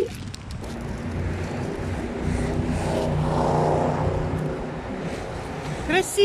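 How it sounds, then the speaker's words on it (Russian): Steady roadside traffic noise as cars drive past on a busy street, a continuous broadband rumble with a swell in the middle, faint wind buffeting, and a brief clatter near the end. "А возле дороги очень шумно. Машины ездят."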